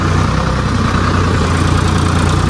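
A loud, steady tractor engine idles nearby, a constant low rumbling throb with mechanical vibration and no pauses.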